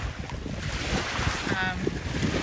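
Rough surf churns steadily with a constant broadband roar, wind buffeting the microphone throughout, no voices.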